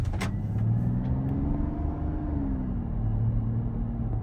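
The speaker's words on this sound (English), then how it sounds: "You can hear that engine whirring for sure" A Mazda CX-70's V6 engine hums and rumbles steadily, its pitch rising slightly as it accelerates, heard from inside the SUV with a smooth, continuous drone.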